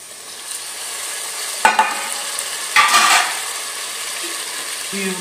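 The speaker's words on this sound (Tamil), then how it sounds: "இதில் வந்து நம்ம தக்காளியை உள்ளே கொட்டிடலாம்." Tomatoes are tipped into a sizzling quail biryani masala, sending two sharp bursts of spattering through a steady background fry, heard up close with a faint sound near the end.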